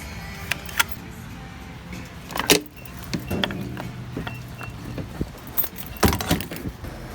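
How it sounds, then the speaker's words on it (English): A car that won't run after refuelling at a gas pump is cranked and stalls. Short bursts of cranking and clunks come in irregular spurts over steady background noise, with a little faint talk. "I'm gonna try to start it and it's just gonna die right away"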